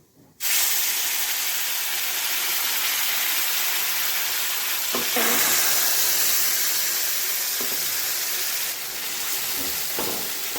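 Mustard and peanut paste hitting a hot pan sets off an abrupt, loud, steady frying hiss that runs on with a few faint clinks, with no voices.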